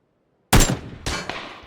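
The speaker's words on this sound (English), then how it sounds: "He decides to take his second shot, or third, I don't know." Enemy gunfire aimed at the player in a video game: after silence, a loud, close gunshot cracks out, followed by a second shot and a fainter third, each with a ringing tail.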